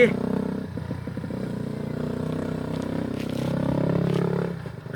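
A Honda Wave 110S motorcycle pulls away, its engine droning and rising in pitch as it rides off, heard close and loud with voices talking over it.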